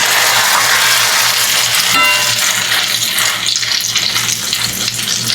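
Grated potato dropped into a pan of grass-fed butter over low heat for hash browns, giving a dense, continuous close-up sizzle that stays steady throughout without any speech.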